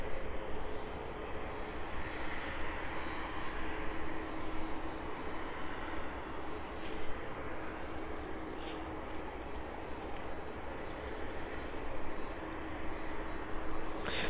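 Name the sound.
aircraft approaching the airport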